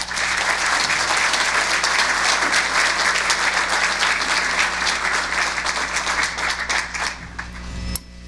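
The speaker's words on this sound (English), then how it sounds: "Another round of applause for the most unfailingly cheerful person I know" Dense, loud audience applause fills a hall at an award program and holds steady for about eight seconds, then breaks off abruptly near the end.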